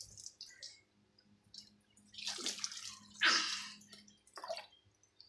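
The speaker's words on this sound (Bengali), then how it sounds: "মাথায় জল দাও" Water is poured over a baby's head during a bath in a few short splashing bursts, close and fairly soft, with drips and quiet handling between them.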